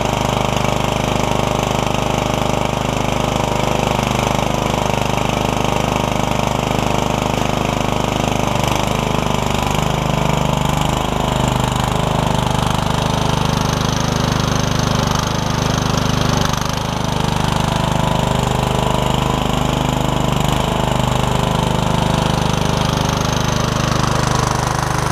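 An MTD Yard Machines riding mower engine runs loud and close, a continuous rough mechanical drone with slight variations as it drives off.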